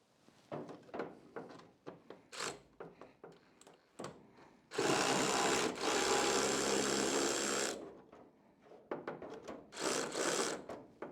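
A screw being driven in during brake work on a Datsun, heard as a sustained loud whirring burst of several seconds framed by shorter rubbing and clattering bursts before and after.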